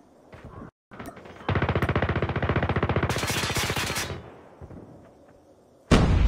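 Rapid automatic gunfire in a Search and Destroy match of a Call of Duty–style shooter, a dense burst of shots lasting a few seconds, followed by a sharp loud shot at the end.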